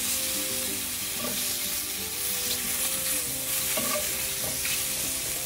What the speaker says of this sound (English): So my mushroom has been cooking for about 2 minutes now, and it's kind of getting brown